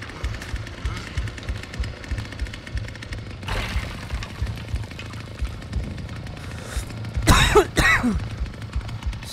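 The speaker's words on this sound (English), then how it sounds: "Sorry, cough." A man coughs twice in quick succession, loud and close, over constant rattling jackhammer-like machine noise while playing the Texas Chainsaw Massacre game.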